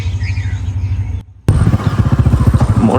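A motorcycle engine idling or running close by with a rapid, rumbling pulse, loud and steady, briefly dropping out before resuming.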